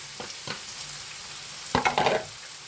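Onions drop into a hot pan for couscous and burst into a loud sizzle with stirring scrapes, following a few soft clinks and a quiet, steady frying hiss.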